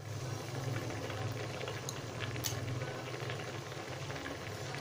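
A steady, low rumbling hiss runs continuously from a pressure cooker cooking keema matar on a stove, faint and unbroken with a couple of brief high ticks.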